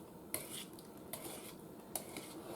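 Pumpkin bread dough and flour are stirred in a mixing bowl, a soft scraping broken by three faint clinks of the utensil against the bowl, heard close and quiet without speech.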